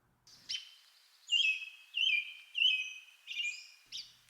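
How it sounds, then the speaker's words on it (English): An American robin sings a series of clear, whistled caroling phrases, five or six bursts in a steady rhythm, close and distinct against a quiet background. "Here's the American robin's song,"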